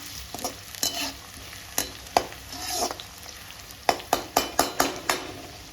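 Onion, mustard seeds and chilies fry in a kadhai with a steady sizzle, while a run of sharp utensil strikes and scrapes lands near the end, several in quick rhythmic succession.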